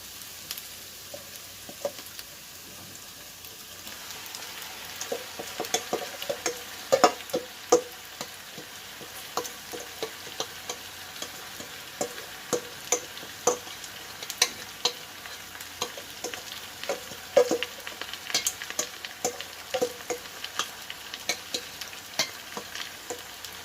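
Chicken fries for biryani in a pot, a soft steady sizzle broken by frequent scraping clicks and knocks as a utensil stirs it, with no talking.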